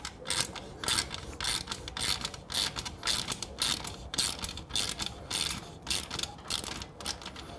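A bolt on a motorcycle exhaust heat shield, on slip-on mufflers for a Triumph Bonneville, is tightened with a ratchet in quick repeated clicking strokes, close and fairly quiet, with brief pauses between bursts.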